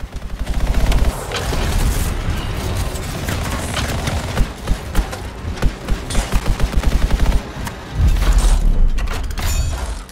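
Rapid cannon fire from a weapon mounted on a character's back in the video game Anthem on PS4, loud dense bursts of shots with booms and clattering shells, briefly broken by pauses and separate sharp blasts.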